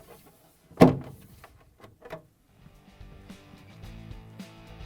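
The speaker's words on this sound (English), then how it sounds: "push it down, and close the door." A Whirlpool refrigerator door shuts with one sharp, close thump after a new door bin is fitted, followed by a few softer knocks and a faint hum.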